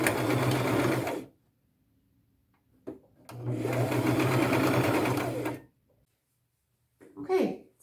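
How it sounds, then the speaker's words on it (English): A sewing machine runs small single stitches attaching tulle to the bottom of a tank top, two steady motorized bursts of about a second and two and a half seconds separated by quiet, with faint handling noise and a brief voice at the end. "So I'll just use a small single stitch."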